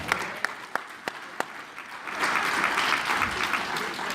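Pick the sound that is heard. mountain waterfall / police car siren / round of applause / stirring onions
round of applause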